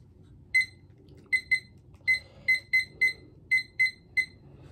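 A kitchen timer beeps while being set for a ten-minute food challenge, with about ten short, sharp electronic beeps in irregular clusters, clear and close over faint room noise.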